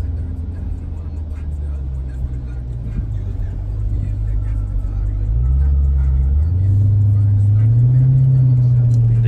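A 2020 Jeep Grand Cherokee SRT accelerates hard, its engine rumble rising steadily in pitch and growing louder as it builds speed, heard from inside the cabin.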